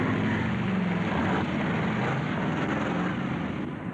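Drag racing cars roar past in a loud, continuous, broadband engine drone that holds steady for the whole stretch and fades slightly at the end, with no talking.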